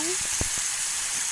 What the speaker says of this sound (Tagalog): Sautay lang natin hanggang sa lumambot ang onion at saka garlic.